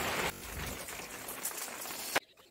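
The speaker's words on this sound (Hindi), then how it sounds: "जब गांव में ऐसे बारिश होती है" Rain falling in a village, a steady dense hiss of drops spread across the whole band, fairly close. It stops abruptly near the end, leaving near silence.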